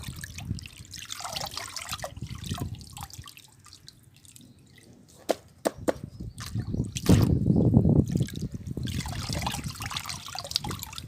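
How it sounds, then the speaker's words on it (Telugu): Onion peel liquid fertilizer is strained for plants, dripping and trickling into a container in irregular splashes with scattered clicks, then a fuller pouring burst near the middle, close and fairly quiet, without talk. "ఉల్లిపొట్టు ప్లస్ ఈ మొత్తం ఏవైతే ఉన్నాయో మొత్తం వడగట్టేశాను"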